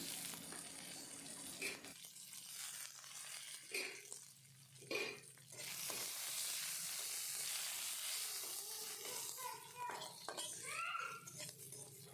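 Finely chopped spices hit onions frying in a pan for an ethnic catfish curry, raising a steady broad sizzle with a few clinks and stirring scrapes partway through, close and fairly loud throughout.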